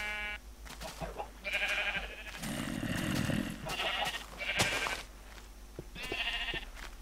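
Several sheep bleat in Minecraft, short nasal calls repeating in uneven bursts with brief pauses between them, clear and close with no talking.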